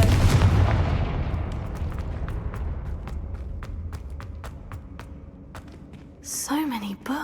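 A Confringo fire spell blast in Hogwarts Legacy opens with a loud booming burst that rumbles and decays, followed by scattered sharp crackles and ticks, and a short voice comes in near the end.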